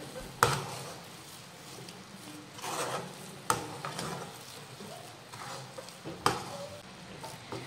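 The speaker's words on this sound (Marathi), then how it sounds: "वेलची पावडर घातल्यानंतर हे एकदा व्यवस्थित मिक्स करून घेऊयात" Fresh grated coconut barfi mixture with cardamom powder is stirred in a pan: soft scraping strokes and a few sharp spoon knocks against the pan, at moderate level with no talking.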